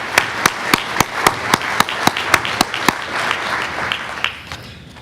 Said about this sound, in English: Let's give all these entities a collective applause.